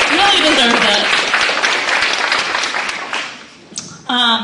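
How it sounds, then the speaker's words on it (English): An audience at a live-streamed panel applauds, a broad clapping wash that fades over a few seconds while voices speak over its start and again at the end. "Give her another round of applause"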